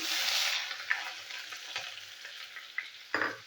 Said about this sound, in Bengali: দিয়ে দেবো পেঁয়াজের কুচি আর কাঁচা লঙ্কার কুচি